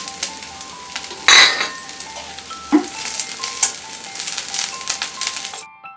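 Coconut pieces roasting in ghee for Kerala neyyappam, with a steady soft sizzle, a few close clinks of a spatula against the pan and light stirring scrapes throughout.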